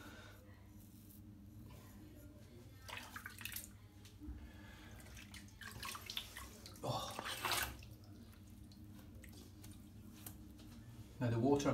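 Lukewarm water runs and splashes into a bath as it fills, a steady close watery rush with occasional sloshes, while people talk over it now and then.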